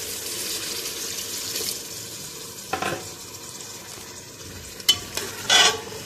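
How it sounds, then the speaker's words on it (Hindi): Water poured into a sizzling pot of mutton and beetroot curry, giving a hissing sizzle with stirring and a few sharp bursts near the end, moderately loud and without speech. "अब इसमें डाल देते हैं हम पानी।"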